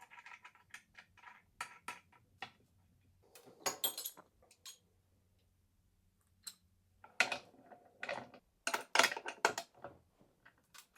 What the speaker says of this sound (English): We're going to grab our washer and our nut and put that back on.